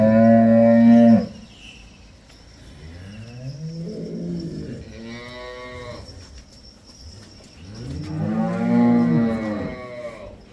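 Cows on a farm moo several times, beginning with one loud, close call and followed by softer, drawn-out moos that rise and fall, with no talk.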